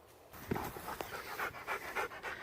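A dog pants close to the microphone in quick, rhythmic breaths, steady and fairly loud, with no talking.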